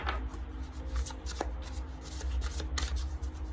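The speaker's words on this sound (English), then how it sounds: "So now I'm going to get one more card from the Time Traveler's Oracle deck." Oracle cards from a Time Traveler's Oracle deck are drawn and shuffled by hand, a close, soft run of papery riffles and slides with brief sharper flicks and no talk.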